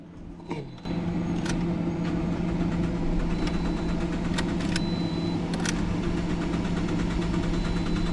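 A 2013 Toyota Corolla engine idles steadily with its mass air flow sensor unplugged, a constant close drone after a brief clunk at the start, with a few faint metallic clicks over it.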